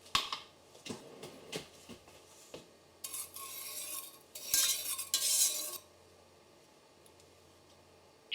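Metal utensil scraping and clinking against a pressure cooker while stirring sugar and water, in irregular strokes, with a few louder rasping bursts of stirring in the middle, then quiet.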